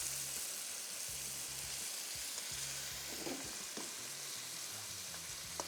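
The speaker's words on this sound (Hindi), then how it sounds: "तेज़ आंच रखनी है, आंच धीमी नहीं रखनी, और फ्राई करते जाएंगे बस।" Minced meat keema fries with onions over high heat, a soft continuous sizzle with faint stirring scrapes, heard alone without talk under a low background hum.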